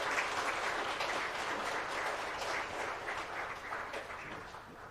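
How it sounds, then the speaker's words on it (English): Audience applause at a seminar in Golitsyno, a sustained wash of many hands clapping that stays fairly steady for about five seconds before easing slightly, with no talking over it. "So let's applaud him"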